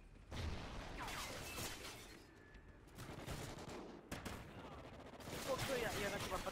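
Gunfire rattles in a Call of Duty: Ghosts free-for-all match. Rapid automatic bursts come in several separate volleys, with short gaps and harsh in-game clatter between them.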